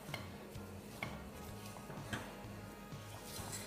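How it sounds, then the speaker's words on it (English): Chocolate marshmallow mixture is stirred continuously in a pan, with steady scraping and clinking of a utensil against the sides and base. Soft repeated strokes sit over a constant low background hum, with no talking. "you need 5 minutes of continuous stirring from then"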